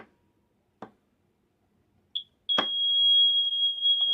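A couple of soft clicks, then a short chirp followed by a sustained high-pitched electronic tone from a smoke detector with a flat battery, loud and close.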